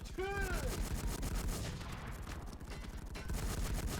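Rapid, continuous gunfire rattles through a fantasy-style online shooter during a point-capture match, with dense bursts of shots that barely pause and a brief tonal effect near the beginning.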